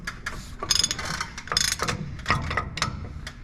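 A socket wrench ratchets as a wheel bearing nut is tightened during brake adjustment, giving a run of close, repeated clicking bursts in an uneven rhythm with no talking.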